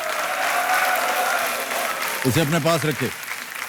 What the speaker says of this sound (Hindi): तालियां बजने चाहिए इनके लिए